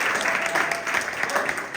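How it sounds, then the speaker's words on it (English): Steady audience applause at an interview event, a dense, continuous patter of clapping from a live crowd that holds at an even level throughout, with no voices rising above it. "give him one more round of applause"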